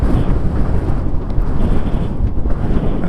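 Strong wind roars across an open microphone in windswept Patagonian country along Ruta 40 near a lake, a steady dense buffeting rumble that fills the whole stretch with no voices.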